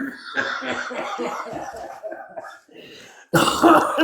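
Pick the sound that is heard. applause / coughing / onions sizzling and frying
coughing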